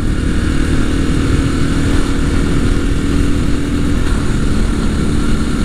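A 1983 Honda XL250R MD03 trail motorcycle runs while being ridden, its engine a loud, constant, low droning rumble with wind noise and no change in pitch. No one talks over it.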